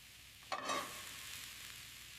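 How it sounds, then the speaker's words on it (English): A sudden sizzle flares up as pancake batter with cauliflower meets the hot frying pan, then holds as a steady, even frying hiss up close. "That sizzle is important."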